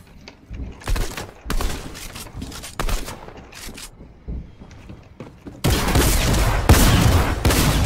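Shotgun blasts and rapid gunfire in a Fortnite battle royale match, a few sharp separate shots early, then a loud continuous barrage in the final seconds.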